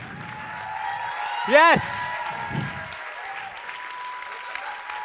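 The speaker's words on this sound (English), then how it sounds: "please keep the applause going" Applause from a talent show audience, a steady wash of clapping throughout, with a whoop and a short spoken word rising over it.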